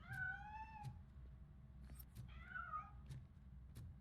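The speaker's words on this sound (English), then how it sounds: "That cat must be hiding inside." Two clear cat meows in Robocop: Rogue City, one near the start and a second shorter one midway, over a low game ambience with a few faint clicks.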